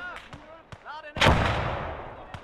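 A heavy mortar blast in Gates of Hell: Ostfront during a WWII invasion of Poland battle, with one loud booming impact and a long rumbling decay, preceded by shorter thuds and brief voice-like sounds.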